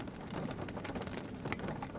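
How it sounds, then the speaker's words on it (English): Rain falling during a drive to work in Florida, a steady hiss of drops on the car with a low rumble underneath, continuous throughout with no talking. "It's raining."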